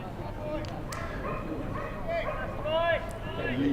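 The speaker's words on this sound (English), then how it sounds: "Sound of an excitable dog somewhere." An excitable dog yips and whines somewhere outside a county cricket ground, faint and distant beneath steady commentary talk and crowd ambience.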